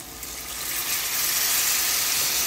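Water poured into red-fried spice paste with salt in a pan for a jinger (prawn) recipe, giving a loud, continuous close hiss of sizzling steam that swells and holds steady.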